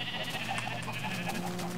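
Sheep bleating in the Minecraft video game, several overlapping bleats in a dense, continuous crowded cluster, loud and close.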